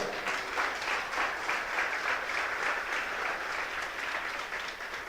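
A church congregation at a sermon giving the Lord a round of applause, a dense, sustained clapping that fills the room evenly from start to finish.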